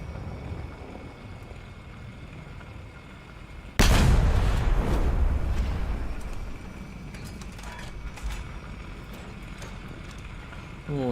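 A single heavy boom from a mobile artillery gun firing in a ground-vehicle video game, a sudden loud blast that decays into a rumbling tail over several seconds above steady engine noise.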